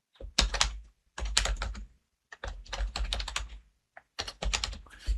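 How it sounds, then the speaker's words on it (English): Keys clatter on a computer keyboard in four quick bursts of typing separated by short pauses, close and crisp with no voices. "And I can type the resource provider name"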